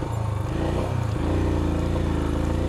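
Motorcycle engine revving hard on a solo ride in East Sikkim as the rear wheel spins and sticks in soft, freshly slipped landslide mud, a loud continuous drone that rises in pitch without letting up.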